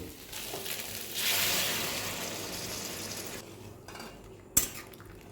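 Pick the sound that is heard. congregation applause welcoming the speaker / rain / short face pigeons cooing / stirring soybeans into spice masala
stirring soybeans into spice masala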